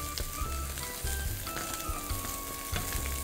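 Chopped scallions fry in oil in a wok, a dense crackling sizzle running throughout with occasional clinks and scrapes of stirring close by.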